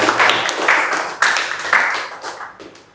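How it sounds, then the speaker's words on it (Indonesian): A classroom of students claps for a classmate during a Hindu religion lesson, a brief burst of close, uneven hand claps that fades out over a few seconds with no talking. "berikan tepuk tangan dulu kepada temannya."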